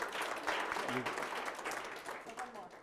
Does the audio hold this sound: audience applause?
yes